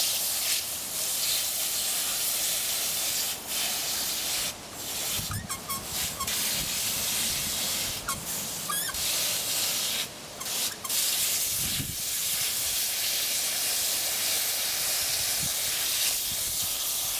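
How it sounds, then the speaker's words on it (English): A garden hose sprays water in a long continuous hiss, washing soil down into a hanging-basket pot while repotting a Hoya plant, with occasional sputters and gurgles as the stream shifts, close by. "I'm going to continue spraying the soil down into the pot"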